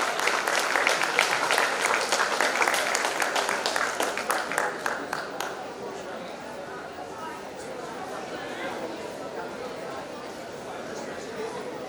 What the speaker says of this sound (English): Give a huge round of applause, please.